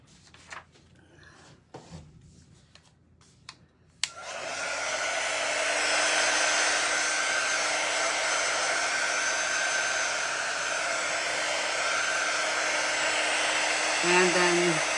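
A hair dryer switches on after a few seconds of small handling noises and then blows with a steady loud whoosh and faint motor whine, close by, running continuously to the end.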